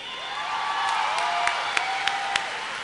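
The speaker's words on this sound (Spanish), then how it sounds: "Este aplauso es para este gran elenco de queridos amigos de Aquí mando yo." Audience applause for the cast of the Chilean telenovela Aquí mando yo at the Copihue de Oro 2011 awards show, a steady wash of clapping from a large crowd, with a few sharper claps near the end over sustained tones.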